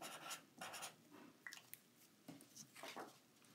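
A pen scratches out measurements on paper in short, quiet strokes and bursts, close and soft, with no voices.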